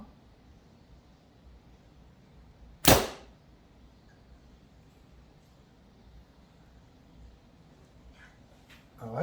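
An arrow is loosed from an awareness bow inside an archery shop, giving one sharp, loud snap near the three-second mark over a quiet room hum, with a faint knock at the very end.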